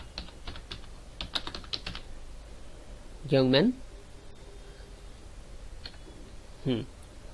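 Soft keyboard typing while screenplay text is entered, a quick run of faint clicks followed by scattered keystrokes, with someone speaking briefly twice over a steady low hiss.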